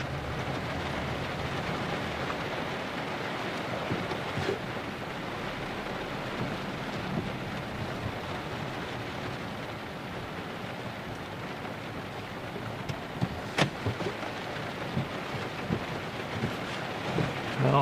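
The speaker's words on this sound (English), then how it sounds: "Aggressive rain shower." Heavy rain pounds a car during a storm chase in New Mexico, a dense steady roar on the roof and windows with a few sharper knocks near the end and no talking.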